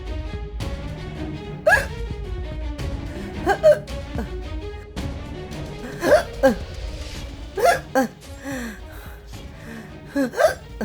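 Repeated hiccups, around six sharp catches spaced irregularly, stand out over a busy indoor background with voices and movement in a Tamil drama scene.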